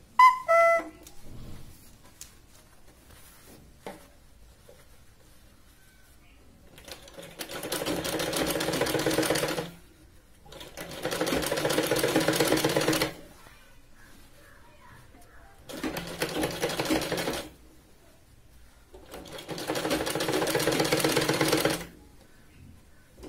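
A sewing machine double-stitches a kurti sleeve from the shoulder's central point straight up to the shoulder. Four steady whirring bursts of a few seconds each are separated by short pauses, close and clear with no voice over them.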